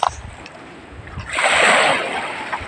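A boat moving on water, with a swelling wash of splashing and rushing water midway, heard outdoors at moderate distance.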